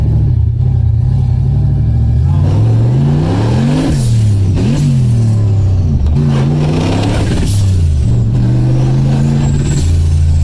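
Turbocharged car driving hard with the engine repeatedly revving up and dropping through gear changes, loud and close, with whooshing turbo and blow-off sounds between pulls.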